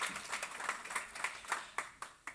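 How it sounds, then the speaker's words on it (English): Small conference audience gives brief applause, a thin patter of individual claps fading to a few scattered, distinct hand claps at the end, fairly quiet. "and a warm round of applause for them"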